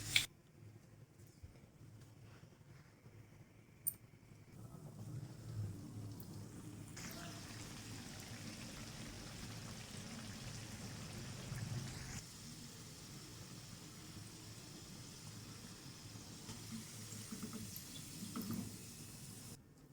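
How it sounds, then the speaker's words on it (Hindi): Potato samosas frying in hot oil, a faint, continuous crackling sizzle that keeps a steady hiss throughout, with a few small knocks near the start. "अब हम इनको फ्राई कर लेंगे।"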